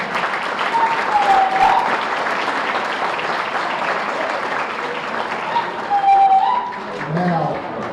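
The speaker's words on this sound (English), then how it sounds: "that's worth an applause" Audience at a high school basketball association annual banquet applauding a senior player's achievements; sustained, fairly loud clapping fills the whole stretch, with a few faint voices and whoops over it.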